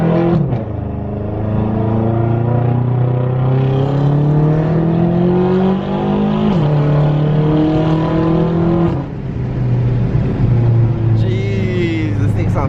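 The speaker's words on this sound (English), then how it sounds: "this V8 just sounds so good" A loud BMW F10 M5 V8 engine revs up close, its throaty pitch climbing and dropping through several long pulls before settling into a deep idle rumble.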